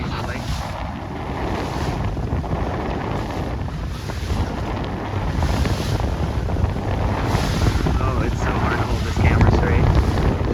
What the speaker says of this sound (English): this is plenty of wind